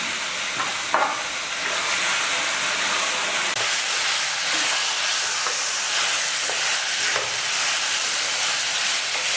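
Chicken stirred into a bubbling biryani masala paste, a constant loud hiss and sizzle with occasional spoon scrapes, heard close with no one speaking.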